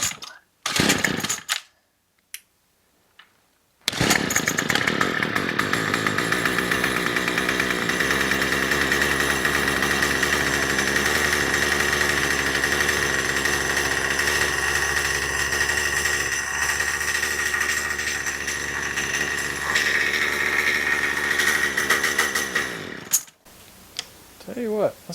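A Troy-Bilt gas string trimmer that bogs down fires up and runs at a steady, buzzing two-stroke idle for about twenty seconds, close and loud, after a few brief starting bursts, then cuts out.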